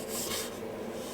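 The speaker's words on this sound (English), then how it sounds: "I'm just going to touch this up with a little sandpaper on each groove" Sandpaper rubbed by hand along the grooves of a small wooden earring stand, a short, steady, close scratchy rasp with no voices.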